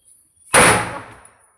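An ole pataki firecracker bursts once in a single loud, sharp bang that rings briefly and fades away, heard on its own after a faint sound just before it.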